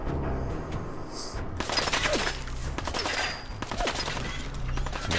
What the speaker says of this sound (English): Figure out where this other gunfire is coming from.